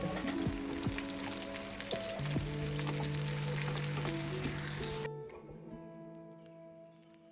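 Sliced onion fries in hot oil for a tadka, a dense crackling sizzle with soft clinks that cuts off abruptly after about five seconds, leaving only a faint low hum.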